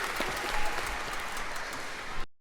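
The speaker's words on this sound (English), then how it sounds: "A big clap for Alexa for that beautiful piece on the ob" An audience applauds after an oboe performance, with dense, steady clapping at moderate distance that cuts off abruptly near the end.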